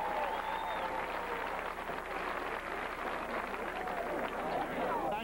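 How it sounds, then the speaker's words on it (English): Crowd applause for former Florida A&M athletes at a 1991 football season event, sustained clapping and cheering from a large stadium audience, steady and fairly distant, with voices mixed into the roar throughout. "Let's give those outstanding former FAMU athletes a rattler, congratulations, and applause."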